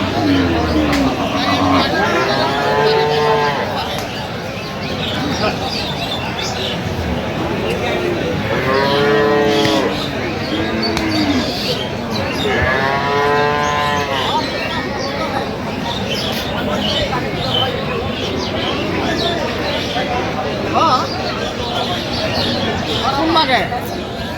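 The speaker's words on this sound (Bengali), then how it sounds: "চার দাঁত বেশ সুন্দর গাভী বাছুর আমরা দেখছিলাম এখানে" Dairy cows and calves moo repeatedly at a busy cattle market in Sylhet, with several long lowing calls rising over a steady crowd hubbub and nearby talk.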